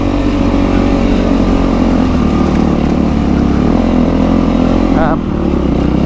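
A Yamaha WR450F rally motorcycle on a roadbook navigation course approaches and passes, its engine droning loud and steady with a revving rise near the end, under continuous talk.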